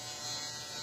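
An electric shaver buzzes steadily and close up during a self haircut, a continuous bright motor hum with no break.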